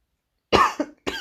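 A lingering post-COVID cough: one harsh, close cough followed by two shorter coughs in quick succession, heard alone with nothing else around it.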